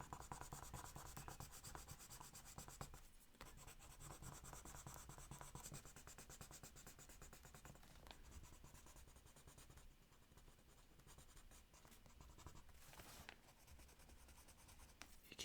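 A pencil is worked steadily over paper in a continuous soft scratchy rubbing of quick back-and-forth strokes, quiet and close, broken by a few short pauses as the pencil is turned.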